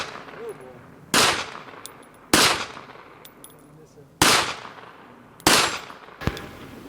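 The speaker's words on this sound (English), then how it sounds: "I might shoot the tree with this guy a little bit, just because I've got so many rounds" Handgun shots fired at a tree outdoors, five sharp, loud cracks spaced about a second apart, each with a short ringing tail, and a faint background hiss between them.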